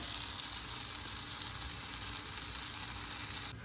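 Seitan brisket sears in an oiled pan, giving a steady, loud, close sizzle that holds evenly for several seconds before easing slightly at the very end.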